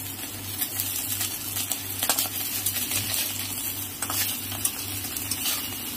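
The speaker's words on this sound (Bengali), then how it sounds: "মৌরলা মাছটা আমার প্রায় ভাজা হয়ে গেছে।" Mourala fish frying in a pan of oil, a steady close sizzle with faint stirring and occasional clinks of a utensil against the pan, no talking.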